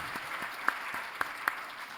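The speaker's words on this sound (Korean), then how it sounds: "우리 큰 박수 드리겠습니다" Faint, distant applause from a church congregation during a Sunday worship service, a soft continuous patter with a few sharper claps standing out.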